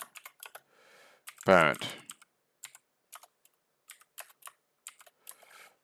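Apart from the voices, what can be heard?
typing on a computer keyboard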